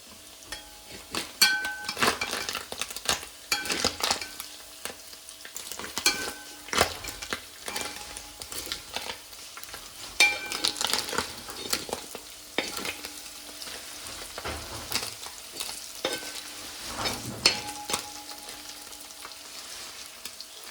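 Small anchovy fish fry in hot oil while being stirred, a constant crackling sizzle broken by repeated scraping and clattering of a spoon against the pan, close and loud with no talk.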